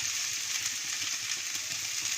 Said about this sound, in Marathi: व्यवस्थित सगळं मिक्स करूया आणि 1 मिनिट कसं परतूया